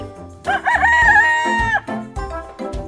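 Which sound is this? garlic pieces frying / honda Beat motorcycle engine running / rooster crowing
rooster crowing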